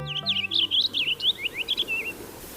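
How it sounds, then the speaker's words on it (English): A purple finch perched in a maple tree sings a rapid, warbling run of high twittering notes lasting about two seconds, fairly close and clear over quiet background, with a brief low tone at the start. "I'm on a purple finch. It's perched in a maple tree, singing."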